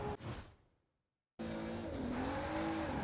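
A race car in Forza Horizon 4 holding a four-wheel drift, tires squealing with a rising, wavering whine over a steady engine roar after a brief silent gap, close and loud.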